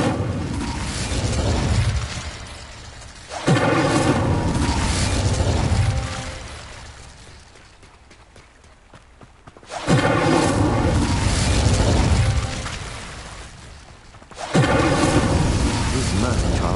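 An Incendio fire spell blasting in Hogwarts Legacy, heavy roaring bursts of flame that surge loud in repeated waves and fade between them, with no talk over it.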